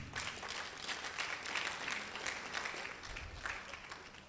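Steady applause from an audience, a dense wash of many hands clapping continuously throughout.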